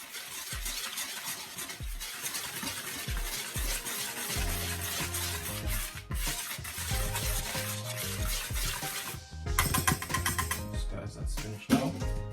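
Jamaican Christmas fruit cake mixture whisked in a bowl, a continuous rhythmic scraping and clattering of the whisk against the bowl, close and steady throughout.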